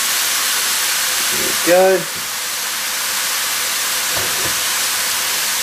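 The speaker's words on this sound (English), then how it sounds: "add the frozen peas to the pasta, just cook them quickly for about a minute or two. Give them a quick stir." Frozen peas cooking with pasta make a loud, steady steamy hiss close by, with a brief stirring scrape and a short spoken remark partway through.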